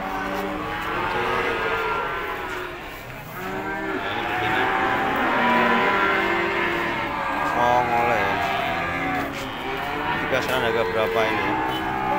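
Cattle low repeatedly at a busy cattle market in Ambarketawang, Yogyakarta, where calves, cows and bulls are traded, with moos rising over steady crowd chatter and people talking nearby throughout.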